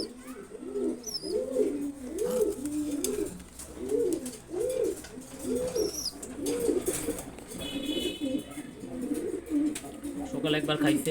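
A pair of pigeons coo in a repeated rhythmic series of soft, low, rolling calls close by, with a few faint chirps and a brief flutter in the background.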